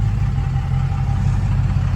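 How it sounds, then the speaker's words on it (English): A Dodge Hellcat on its stock exhaust with 5-inch tips idles in traffic, a steady deep low rumble holding loud and even throughout. "Want to let y'all hear that new exhaust"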